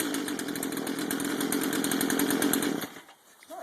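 A newly started chainsaw runs at a steady, buzzing idle for close to three seconds, loud and near, before the engine drops off into near silence.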